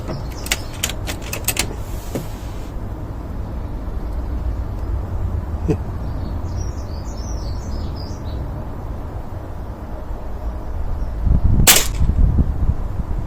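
A Beeman air rifle fires a few sharp, short shots at target practice. The cracks are spaced out over steady outdoor background noise, with faint bird chirps in the distance.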